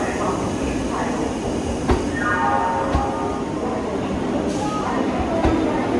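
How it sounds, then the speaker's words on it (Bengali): The Howrah–Gaya Vande Bharat Express pulls into platform 7 at Howrah station with a steady rumbling roll, faint rail clatter and a few sharp knocks, while voices murmur on the platform. "ছটা বেজে 10 মিনিটে হাওড়া স্টেশনের 7 নম্বর প্ল্যাটফর্মে ঢুকেছে 22303 হাওড়া থেকে গয়া বন্দে ভারত এক্সপ্রেস"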